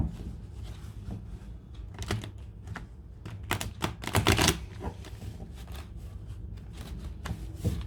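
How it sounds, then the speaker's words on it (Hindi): Tarot cards being shuffled by hand in quick bursts of papery riffling and clicking, close and fairly loud, with short pauses between bursts and no talking. "तो मैं कार्ड को और शफल कर लेती हूँ।"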